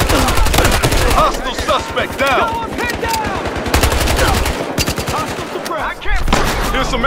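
Loud, rapid automatic fire in Battlefield Hardline, dense bursts crackling continuously with short gaps, close and punchy, while shouted voices break through the shooting.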